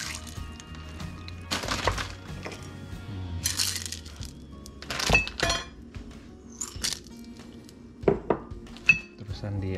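A utensil stirring Vietnamese pho broth in a metal pot, giving irregular clinks and scrapes at close range over a quiet kitchen background, with no one talking.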